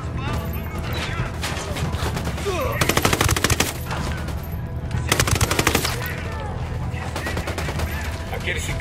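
Automatic gunfire from the game Ghost Recon Wildlands in heavy, continuous bursts, loud and close, with rapid volleys repeating through the scene and a voice talking underneath.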